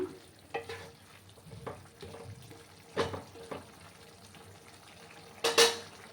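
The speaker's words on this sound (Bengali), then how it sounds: "ভালো করে আবার আমি মিশিয়ে নিলাম" Pumpkin and potato curry with jaggery stirred in a pan, several scraping spoon strokes and clinks over a soft simmering sizzle, close and without talk, one sharper knock near the end.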